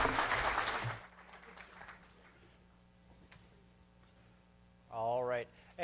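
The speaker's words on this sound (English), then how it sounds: "give them another round of applause" Audience applause breaks out at a lightning pitch event, a dense burst of clapping for about a second that fades into a quiet room, with brief talk near the end.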